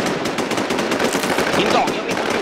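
Rapid automatic gunfire from the survival shooter game Infestation rattles in a dense, continuous burst of loud shots, with faint speech mixed underneath.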